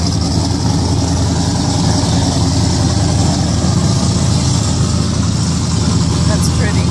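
A large yacht engine on the water off Miami runs at a steady, loud, low rumble that holds an even level throughout without rising, and voices may murmur faintly underneath.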